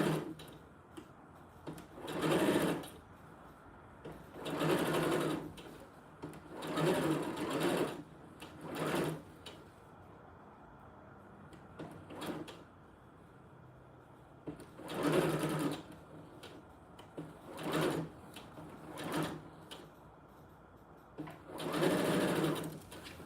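A sewing machine zigzag-stitches the fabric edges of doll clothes, running in repeated short bursts with brief pauses between, fairly close and steady, with no talking.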